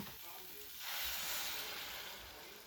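Water poured into a pan of frying spices with soybean and potato sets off a loud surge of hissing sizzle about a second in, swelling up from a quieter background fry and then slowly easing off.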